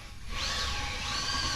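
A power drill whines steadily at high pitch throughout, fairly close, drilling out wheel stud holes from 13mm to 14mm, over a low mechanical rumble with no voices.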